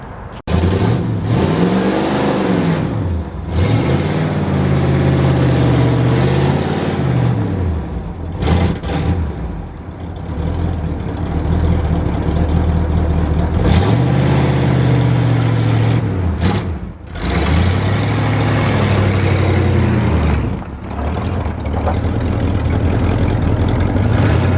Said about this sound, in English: I'm gonna go ahead and see if I can get this started, moved out of the way, and drag this truck out.